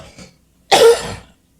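A single harsh cough bursts out after a brief quiet, loud and close, tailing off over about half a second, with faint murmuring just before it.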